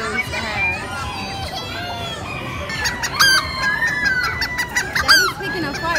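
A rooster crows and clucks at a fair, loud and close, while people chat and children play in the background.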